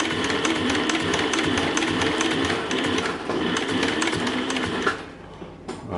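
Cowboy CB 7273 BV heavy-duty sewing machine stitching wide stitches, a loud close rapid mechanical clatter running steadily for about five seconds before slowing and stopping.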